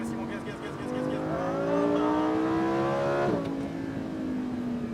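A 640 hp Lamborghini Huracan Performante accelerates on a track at Fay de Bretagne. The engine note climbs steadily in a loud, close rising roar, then drops sharply at a gear change and keeps pulling, with an instructor's voice speaking over it.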